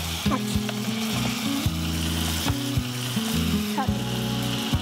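Sliced onion fries with sugar and garlic in a pan, hissing and sizzling steadily as a spoon scrapes and stirs in repeated strokes nearby, with low kitchen noise underneath.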